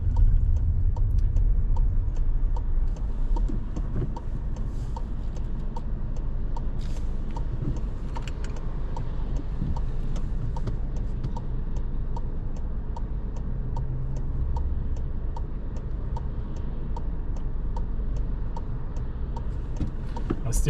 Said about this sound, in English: I still have the right signal on